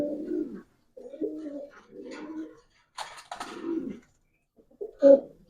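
A pair of Royal Teddy pigeons coo in short, low, throaty bursts, several in a row with brief gaps, close by, with a few faint higher sounds in between.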